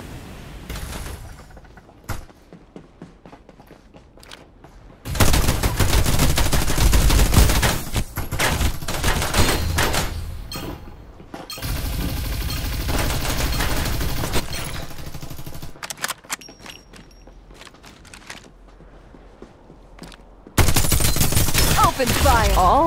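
Sustained automatic gunfire bursts in the Farlight 84 video game, loud dense fusillades in several long stretches separated by quieter gaps with scattered single shots.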